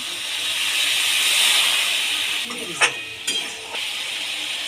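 Spice paste of chilli, cumin and turmeric powder sizzles in a hot pan with a loud, steady frying hiss that surges as a little water goes in, then fades slightly, with a couple of brief clinks.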